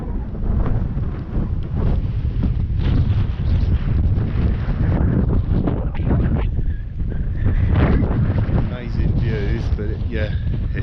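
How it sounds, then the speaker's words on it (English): Strong gusty wind on a high viewpoint near Devizes buffets the microphone in a steady low roar, with faint voices and other sounds underneath. "it is very windy up here"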